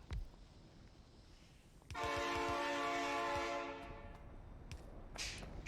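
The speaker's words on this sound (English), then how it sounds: "Train sounds!" A train in the video game Factorio Nullius sounds a long, loud horn blast of about two seconds, and soft rhythmic clacking of rail cars can be heard before and after it.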